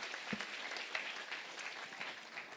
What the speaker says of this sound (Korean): 그러니까 우리 모두 다 박수